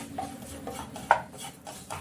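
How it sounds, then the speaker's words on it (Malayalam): Spice powders are stirred and fried in a pan for restaurant-style chicken chukka, making rhythmic scraping strokes with one sharper metallic clink partway through, fairly quiet and close. "ഈ പൊടികളുടെ പച്ചമണം മാറുന്നതുവരെ നന്നായിട്ട് ഇളക്കി ഫ്രൈ ചെയ്യുക"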